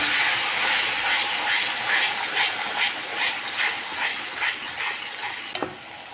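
Ground spice paste sizzling in hot oil with black cumin seed, a steady bright hiss with rhythmic stirring swells and a sharp knock near the end; no talking.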